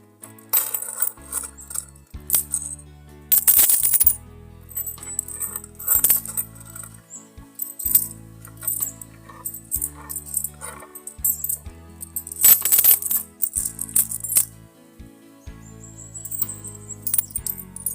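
Coins pour and clatter out of an opened coin bank, bursts of metallic jingling and scattered drops with bumps and handling thuds in between, close and loud.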